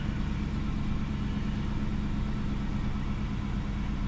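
A 2014 Dodge Durango R/T idles steadily after starting, a close, even engine rumble holding at constant loudness with no voices.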